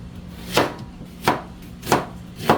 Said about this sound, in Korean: 자 이제 빠르게 썰어준 다 적당히 자기가 먹기 간편한 크기로